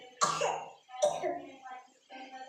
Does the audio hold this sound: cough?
yes